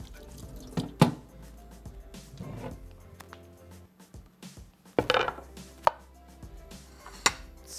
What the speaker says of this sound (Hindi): प्याज है जनाब, थोड़ा सा इसको बारीक हमने काटना है।